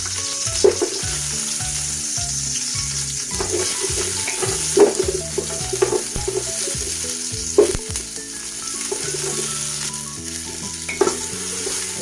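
Garlic, ginger and onion sauté in a hot pan with a continuous crackling sizzle, broken by scraping stirs and the occasional louder clatter of a utensil.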